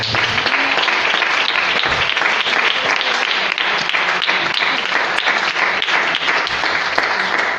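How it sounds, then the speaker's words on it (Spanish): Loud, dense applause from a church congregation at a Spanish-language sermon, a steady wash of many hands clapping throughout without a break. "Dale ese aplauso fuerte."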